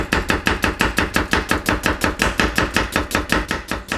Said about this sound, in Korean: 자, 그리고 양파를 썰어주시는데요.